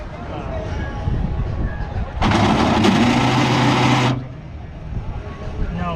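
A car's starter grinds against the engine, a harsh mechanical rasp from a bad starter drive that bursts in loud for about two seconds mid-clip over a steady engine-like drone, with people talking around it.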